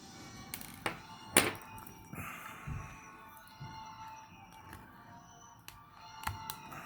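Small plastic parts of a Diamond Select Black Hole action figure snapping into place, a few sharp close clicks and thunks with one louder snap, amid soft handling noise.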